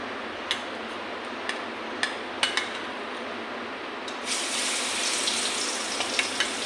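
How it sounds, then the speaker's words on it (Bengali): Marinated fish frying in hot oil in a kadai, a steady broadband sizzle that swells louder partway through, with a few sharp ticks and spatters scattered across it. "কড়াইটা তেলটা গরম হয়ে গেছে এখন মাছটা ভাজা করে নেব"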